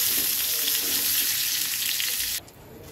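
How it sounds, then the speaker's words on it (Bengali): Cauliflower and potato pieces frying lightly in shallow oil in a pan, a bright steady sizzle that drops away abruptly near the end, close up with no speech. "তো চলো ফুলকপিটা আর আলুটাকে একটু হালকা ভেজে নেই"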